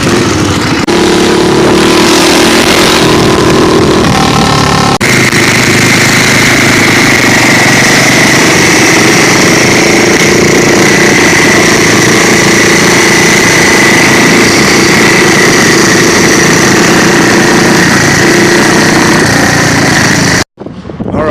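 A mini bike engine runs loud and close for about twenty seconds, a steady buzzing drone that shifts tone early on, then cuts off abruptly near the end.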